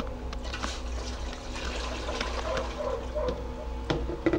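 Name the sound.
water poured into a cooking pot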